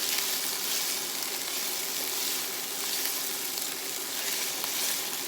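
Creamy chicken parmesan pasta sauce bubbles and sizzles in a pan as it is stirred, a dense, even, fairly loud hiss that holds steady throughout with no voices.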